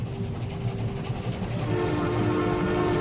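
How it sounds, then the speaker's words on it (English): A train approaching with its horn: a heavy, steady low rumble of rail wheels with a sustained horn tone that swells louder toward the end, close and continuous with no talk. "It's the train! It's coming right at me!"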